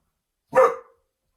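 A single short bark from a pet dog sounds from nearby, sharp and alone, followed by silence.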